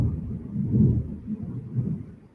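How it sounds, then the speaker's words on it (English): Thunder during a thunderstorm: a low, muffled rumble rolling in swells across a couple of seconds, with no voices. "If you're seeing all these flashes around me, it's because we're having a thunderstorm."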